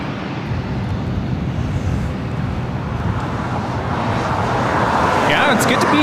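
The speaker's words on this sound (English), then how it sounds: "Next arrival, Delta Connection, SkyWest Flight 4099, coming in from Reno, Nevada. It's an E175." A Delta Connection SkyWest Embraer E175 arriving at LAX from Reno on final approach, a broad steady engine roar that swells louder toward the end, mixed with background traffic noise.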